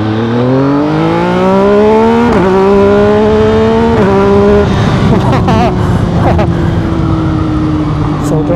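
A Yamaha MT-09 SP fitted with an Akrapovic full exhaust roars steadily while accelerating, its pitch climbing and easing through gear changes, loud and close throughout.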